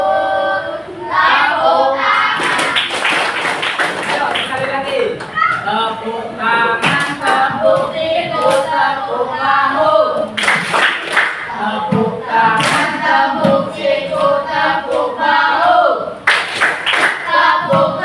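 Children chant a clapping song while rhythmically clapping hands and patting elbows and shoulders, the claps and slaps sounding close and loud throughout under the steady chanting voices.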